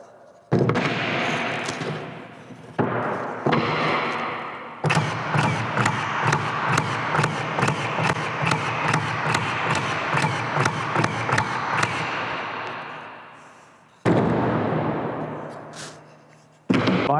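Hitachi cordless finish nail gun firing rapidly on multi-fire, a dense run of loud sharp cracks in quick succession, pausing briefly and then resuming.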